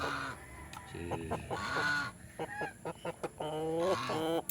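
A Rhode Island Red rooster on a small farm gives a series of close, loud honking clucks and calls in uneven bursts, with a few short sharp notes between them.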